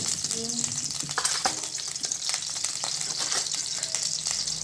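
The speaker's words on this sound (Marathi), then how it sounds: "यामध्ये सर्वप्रथम 1 चमचा तेल, त्यानंतर 1 चमचा मोहरी" Mustard seeds sizzle in a spoonful of hot oil for tempering, a continuous bright hiss dotted with small pops and crackles, moderately loud and close.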